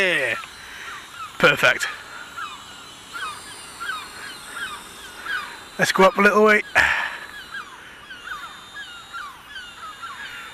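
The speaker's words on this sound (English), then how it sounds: "I don't want these seagulls attacking it." Seagulls call near a hovering UDI U42W quadcopter drone, with sharp bursts of squawks over a constant high-pitched rotor whine while someone talks.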